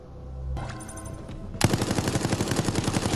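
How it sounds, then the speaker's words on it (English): Machine gun fire in Resident Evil Resistance: a short burst gives way to a loud, sustained rapid volley of rhythmic shots that dominates the end. "Machine gun or rifle, whatever."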